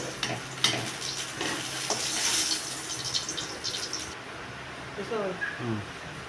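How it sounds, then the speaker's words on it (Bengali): Potatoes seasoned with salt and turmeric fry in hot oil in a kadai for chicken curry, giving a soft sizzle with scraping stirs and a tap of water, partly under someone speaking. "আলুগুলোটি লাল লাল করে ভেজে নেব চিকেনের জন্য।"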